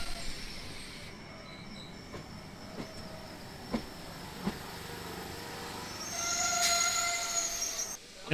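Sealdah to Bangaon local train in West Bengal running along the track, a steady rolling rumble with periodic rail-joint clacks and a rising metallic wheel screech near the end, heard from on board.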